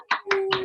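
A few hands clap in quick succession as audience applause welcomes a guest speaker, three close, loud claps over a faint steady hum.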